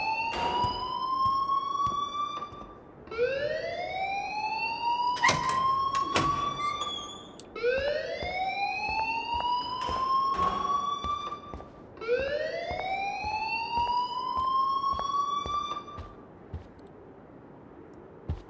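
A fire alarm in the video game Life Is Strange wails in repeated rising whoops, four cycles of about three seconds each, loud and insistent, with a few sharp knocks between them.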